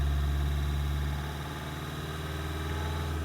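A diesel car engine held at about 2000 RPM hums steadily at close range, a constant low drone that eases slightly partway through.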